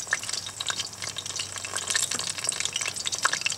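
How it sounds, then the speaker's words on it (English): Chili rellenos deep frying in oil on an outdoor grill give off a continuous close sizzle, dense with tiny pops and crackles that hold steady at a moderate level. "deep frying noise"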